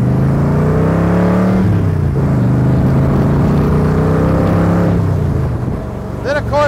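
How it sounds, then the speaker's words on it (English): A 1965 Shelby Cobra's exhaust roars loud and close as the driver downshifts, with the engine note dropping and swelling between gear changes and rev blips toward the end. "Just downshifting nice, making those pipes sing."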